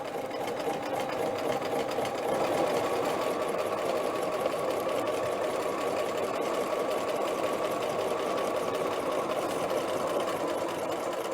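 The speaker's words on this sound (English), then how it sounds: "I'm just going to keep that lined up and start with the zigzag stitch" A sewing machine runs a zigzag stitch along a dress facing, giving a close, steady mechanical whirr with rapid needle rhythm that continues without pause and without talking.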